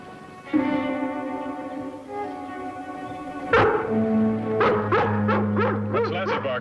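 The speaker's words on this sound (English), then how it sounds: "What's Lassie barking about?" A dog barks and yips in short bursts, several sharp barks close by, over a steady low rumble like a vehicle interior.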